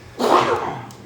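A single sharp sneeze bursts out close by in a quiet room during a government budget review meeting, followed by a fading breathy tail.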